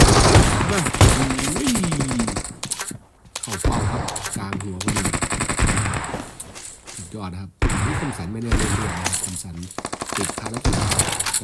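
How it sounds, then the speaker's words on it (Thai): Gunfire from the video game PUBG cracks out in sharp, loud shots and short bursts over lively in-game sound and talk, with a couple of distinct single shots standing out. "ยิงครับ ดอกเดียว สองดอก"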